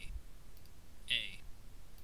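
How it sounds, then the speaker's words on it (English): A single soft mouse click mutes a track during audio editing in Audacity, heard once mid-clip over faint room noise, with no speech. "I'm going to mute this first track by clicking there"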